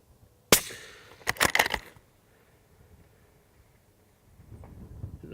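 A sharp, loud crack from a Ruger Precision Rifle in 6.5 Creedmoor at an outdoor range, followed about a second later by a cluster of ringing bursts as the bullet strikes a distant target, then quiet background.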